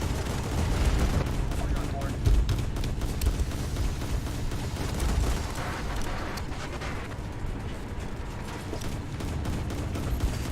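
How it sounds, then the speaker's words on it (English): Sustained heavy gunfire strikes an Italian cruiser, the Bartolomeo Colleoni, in a War Thunder naval battle: a dense, continuous barrage of loud shots and impacts with deep booming rumbles throughout. "We're being shot from the front, I think."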